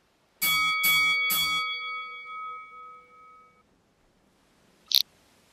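Three quick clangs of a ring bell open a Second Life virtual wrestling match, their metallic tones ringing on and fading over a few seconds, followed later by a single short sharp click.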